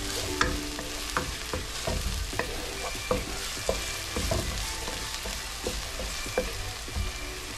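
Green onion frying in a pan, a steady dense sizzle with spoon strokes and scraping clicks as the pieces are stirred through the hot oil, close and continuous without talk.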